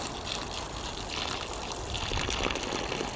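Water from a watering can sprinkling onto newly planted leek, beetroot, tomato and courgette seedlings, a steady close trickling and splashing hiss that runs throughout.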